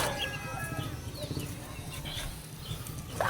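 Hungry hens clucking close by on a backyard poultry farm, a steady stream of short overlapping clucks with a brief louder call near the end.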